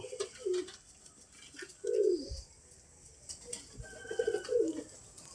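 Pigeons coo softly in short, repeated throaty bursts as they land, several calls spread across the moment, near but fairly quiet, with light outdoor background noise and no talk.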